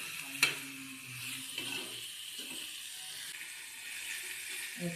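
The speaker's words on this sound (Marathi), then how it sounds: "आईने आता तेलात दोडके टाकून घेतलेले आहेत." Ridge gourd pieces fry in hot oil in a home kitchen, a faint steady sizzle with a sharp stirring clink near the start and light scraping of a spoon against the pan throughout.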